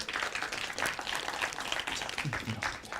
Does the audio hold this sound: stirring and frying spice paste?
no